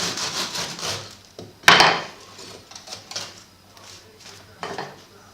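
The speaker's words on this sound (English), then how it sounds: "this is where the short strokes and the very sharp knife, a very good bread knife, come into their own" A very sharp bread knife saws through a loaf of homemade bread in short strokes, producing close, rasping scrapes with one louder crunching cut and softer strokes after it.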